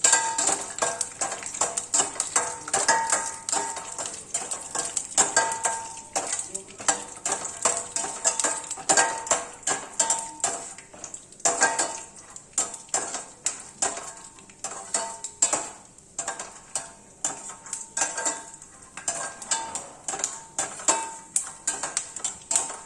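Peanuts roasting in a pan on a medium flame, a steady clatter and scrape of stirring with sharp repeated clinks against the metal and a faint sizzle, with no talking.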